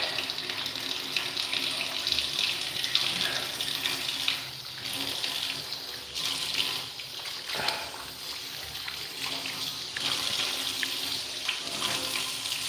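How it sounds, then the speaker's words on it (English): Tap water runs steadily into a sink for face washing, a continuous close splashing rush with slight dips in level and no talking throughout. "I'm gonna wash my face off a little bit."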